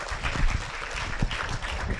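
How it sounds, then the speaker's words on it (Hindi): A ceremony audience applauds at an honouring ceremony held for Ganesh festival at a spiritual centre in Bhopal, with dense, steady clapping that fills the brief moment without a break. "इनके लिए जोरदार ताली।"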